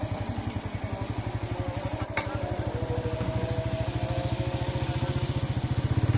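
A motorcycle engine runs steadily close by, with a fast regular low throb that builds slightly toward the end and a brief knock near two seconds; no one speaks.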